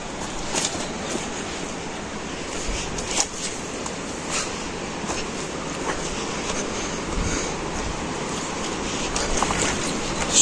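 Waterfall roaring at Saingpura falls in a bamboo and green forest, a steady broadband rush of falling water that fills the whole stretch without pause, close and fairly loud.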